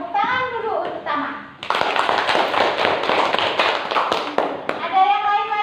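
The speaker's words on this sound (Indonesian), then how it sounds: "Tepuk tangan dulu untuk Tama" Classroom students break into loud, close applause for a classmate named Tama, a burst of many hands clapping for about three seconds, with a teacher's and children's voices just before and after.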